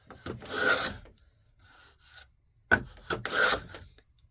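A freshly sharpened miter plane shaves curls from a piece of pine, making two long, close rasping strokes separated by a short pause, with quieter scraping between them.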